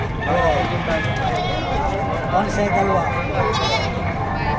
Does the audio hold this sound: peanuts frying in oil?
no